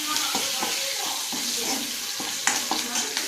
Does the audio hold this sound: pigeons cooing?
no